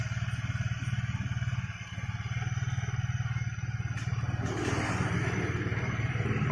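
A motorcycle engine runs steadily at idle during a charging-system test, a continuous close, even drone with a slight rise in intensity toward the end and no talking over it.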